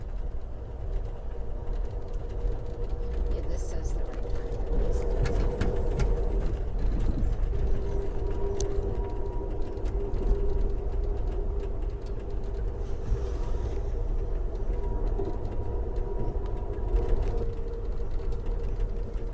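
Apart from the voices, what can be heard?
freight train of hopper cars passing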